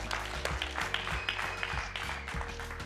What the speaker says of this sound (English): I think a round of applause for all you guys.